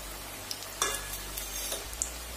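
Namak para (mattar) dough snacks deep-frying in hot oil give a quiet, steady sizzle with a few soft clicks and scrapes of stirring, heard close and alone without talk.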